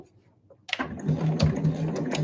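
A sewing machine stitches a backstitch on an eco bag, starting after a brief quiet moment into a fast, close, even mechanical chatter with rapid repeated needle strokes, loud and alone.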